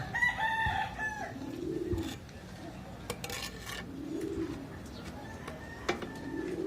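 Racing pigeons coo in low, rounded repeated calls nearby, with chirps from other birds higher up and faint rustling around them.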